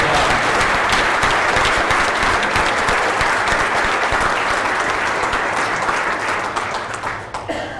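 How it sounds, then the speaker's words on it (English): A large banquet audience at a 2009 UMR Hall of Fame induction honoring a 1969 football team claps loudly and continuously for several seconds, the dense applause thinning and fading near the end. "So let's really give a round of applause."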